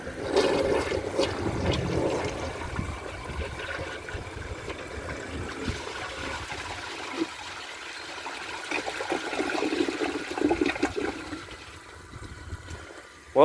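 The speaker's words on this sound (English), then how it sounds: "I'm just going to give it another little flush with the rest of the water here in the tank." A 2002 American Standard Cadet toilet flushes with a steady rushing gurgle of water that swells, eases off and surges again, close by and fairly quiet, ending in a thin trickle.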